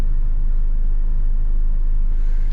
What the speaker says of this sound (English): This car's sitting over there running, nobody in it.